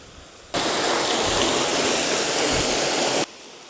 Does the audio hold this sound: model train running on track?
no